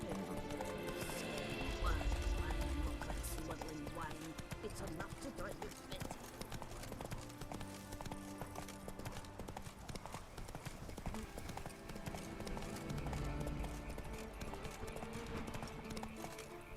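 Rhythmic hoof clip-clop of a horse galloping in the video game Witcher 3: Wild Hunt, steady quick beats with a brief whinny, over game ambience and soft music.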